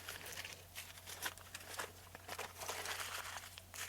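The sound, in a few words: crumpling material for gel printing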